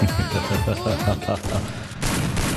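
Shotgun and AWM sniper rifle fire in the mobile video game Free Fire: loud, close bursts of gunfire with heavy booming reports packed into a short, intense exchange.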